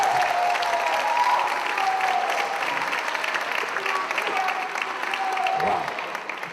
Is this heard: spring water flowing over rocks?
no